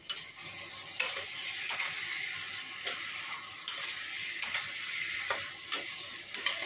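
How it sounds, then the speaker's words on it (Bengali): Spice paste with ginger and ground cumin sizzles in a pan alongside fried potato and cauliflower. A spatula stirs and scrapes against the pan in sharp, regular strokes about every second over a continuous frying hiss, with no voices. "দেখো এখানে মশলাটা খুব ভালো করে কষাচ্ছি"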